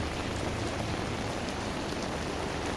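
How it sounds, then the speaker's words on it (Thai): Heavy rain pours down steadily, a dense, continuous hiss of drops hitting surfaces close by. "ตก ไม่หยุดเลยนะครับ ฝน นี่ฮะ"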